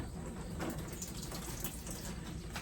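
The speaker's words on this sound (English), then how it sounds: "now I'm going to give it a good watering" Water is poured from above onto a freshly potted, very dry houseplant, giving a soft, steady trickle and splash that stays quiet and continuous throughout.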